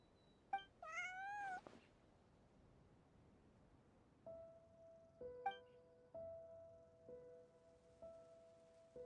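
A cat named Bonnie meows in Genshin Impact, several short, distinct meows over quiet background rain, followed by steady tonal game ambience.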